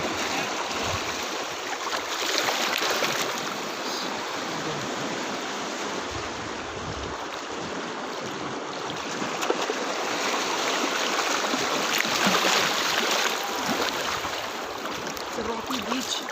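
Waves break and wash continuously over a stony, sandless rocky beach in Goa, a steady loud rushing surge with swells rising and falling, close by and without talk.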